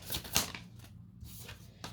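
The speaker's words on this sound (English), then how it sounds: "You saw me shuffle the cards" Cards from a deck being shuffled, bursts of riffling and flicking close by with short pauses between them, no talking.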